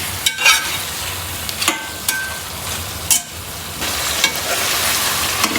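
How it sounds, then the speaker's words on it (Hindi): Chicken fries in a pan for kachnar gosht, a steady close sizzle with a few sharp scrapes and knocks of a utensil stirring it, and no one speaking. "हमारा चिकन फ्राई हो गया।"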